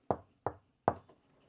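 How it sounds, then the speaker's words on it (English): Three sharp, close knocks on the front of a Newmar King Aire RV door, evenly spaced about a third of a second apart, followed by a faint click as the lock releases. "To unlock the door, you just knock on the front of the door 3 times"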